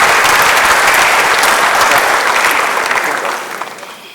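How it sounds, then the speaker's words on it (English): A loud round of applause from an audience at a university ceremony honoring a lawyer and public servant, dense clapping that tapers off over the last second. "Shall we do one more big round of applause in appreciation?"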